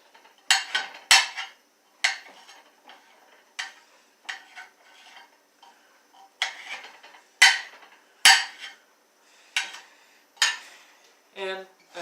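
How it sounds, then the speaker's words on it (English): Vegetables are chopped on a board for a pantry stir fry: sharp, irregular knife strikes in quick clusters with short pauses, close and clear, with a brief voice near the end. "So chop them up so that they're a decent size."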